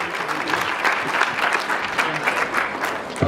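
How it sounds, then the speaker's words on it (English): Audience applause for trainer Parikshit at a school felicitation ceremony and theater show, a close, steady roar of clapping with a few voices underneath. "Please give him a big round of applause"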